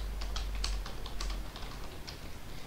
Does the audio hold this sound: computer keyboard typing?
yes